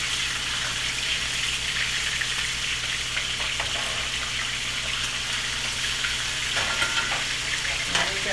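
Chicken pieces frying in a pan, a steady close crackling sizzle with small pops and spatters throughout, loud and continuous without talking.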